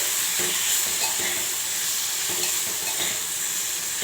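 Chili powder and salt being stirred into sambar dal in a pot, with a steady soft scraping and gentle bubbling sizzle throughout, close and moderately loud, with no voices.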